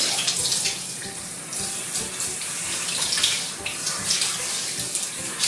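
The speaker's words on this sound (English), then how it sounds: "I'm going to be spraying, getting them wet here." Lukewarm water sprays steadily onto a puppy during its first bath, a continuous close hiss and splash like a running tap, with no talking.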